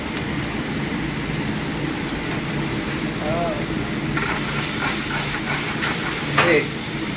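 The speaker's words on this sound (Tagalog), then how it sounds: "so we're gonna saute our onions" Onions sautéing in a straight-sided pan during a paella class, a steady bright sizzle and hiss running throughout with a voice talking over it.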